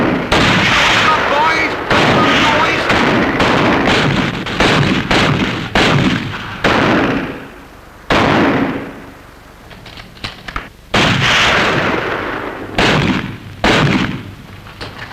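Naval guns firing as a radio comedy sound effect: repeated loud booming blasts in rapid clusters, each with rumbling decay, broken by brief quieter gaps, with voices shouting amid the barrage.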